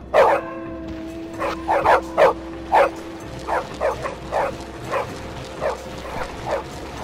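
Repeated barks and yips from a dog in a video game, loud and close, in uneven bursts over a steady electronic tone.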